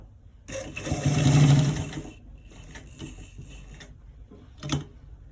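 A sewing machine runs in a loud burst while stitching the inner front pocket of a v-neck garment, then drops to a quieter run with short mechanical bursts and a sharp click near the end.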